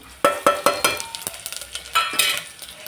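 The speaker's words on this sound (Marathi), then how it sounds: "फोडणीसाठी आपण जिरं आणि लसूण घेतला होता, ते फोडणी देऊन घेऊ" Cumin and garlic tempering sizzles in hot oil, with a quick run of sharp metallic clinks from a spoon against the pan over a soft, bubbling sizzle.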